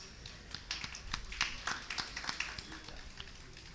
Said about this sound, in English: Ladies and gentlemen, let's make a huge round of applause.